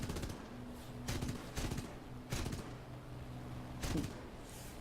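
A Ki-32 bomber's forward machine gun in War Thunder fires four short, loud bursts at fairly even intervals, heard over the steady drone of the aircraft engine.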